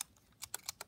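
Four distinct key presses on a Braille note device, crisp clicks spaced about a tenth of a second apart, close and fairly quiet with no voices.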